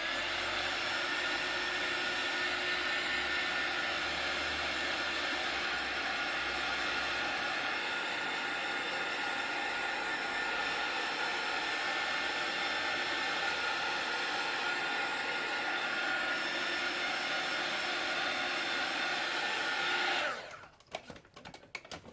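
A heat gun blasts steadily over a mixed-media art journal page coated with gesso and textile dye, a loud continuous whooshing roar lasting about twenty seconds before it cuts off abruptly.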